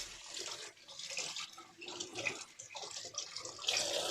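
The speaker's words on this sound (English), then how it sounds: "I'm a cold water shaver, so I'll just wet the razor and the blade" Cold water runs from a bathroom tap to wet a safety razor and blade, a steady close splashing stream with small fluctuations as things pass under it.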